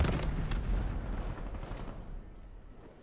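Hellstorm missile strike in Call of Duty: Black Ops III, a dense barrage of booming explosions and rumbling blasts that is loudest at the start and gradually thins out toward the end.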